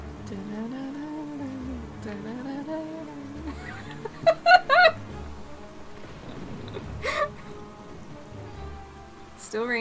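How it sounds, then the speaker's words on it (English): Steady rainfall patters throughout in the video game The Legend of Zelda: The Wind Waker HD, with a person talking over it and a brief burst of laughter partway through. "Still raining."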